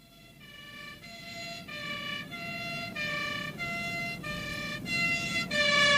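Ambulance siren from a radio drama, a two-tone wail alternating steadily between high and low pitches, growing louder and nearer over a low traffic rumble, with no talking.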